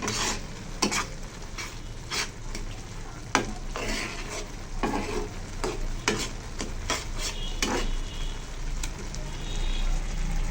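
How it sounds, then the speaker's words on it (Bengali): Noodles cooking in a pan at home, with a steady sizzle and frequent clattering, scraping stirs of a utensil against the pan throughout. "আমি এবার নুডলস রান্না করতেছি"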